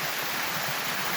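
An artesian spring pours out of a tree stump in a rainforest with no creeks nearby, a close, steady, dense rush of falling water with no breaks.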